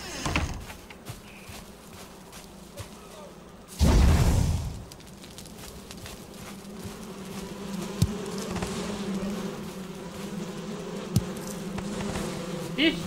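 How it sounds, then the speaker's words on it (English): Bees in the Valheim video game drone steadily around their hives, a continuous close buzz with a short loud thump near the start and a few sharp clicks later. "oh wait, there are bees here"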